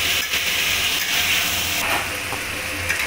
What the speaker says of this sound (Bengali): এবার এগুলোকে ভালো করে নাড়িয়ে নেব।